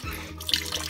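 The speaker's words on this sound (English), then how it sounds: "now we have to put 6 teaspoons of water into our glue." Water is poured by the teaspoon into Elmer's glue in a container, producing a brief close trickling splash of about a second with no voices.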